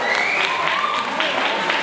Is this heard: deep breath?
no